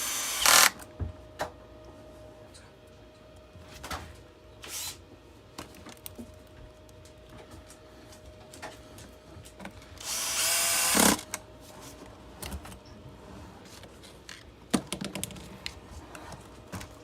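Screws being backed out of a Tineco Floor One S3 cordless vacuum for battery replacement: quiet scattered clicks and taps with a couple of brief louder whirring bursts, close and faint, no talk.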